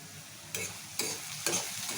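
Ginger garlic paste with coriander powder and turmeric frying in a pan for chicken curry, a close hissing sizzle with three bursts of stirring about half a second apart.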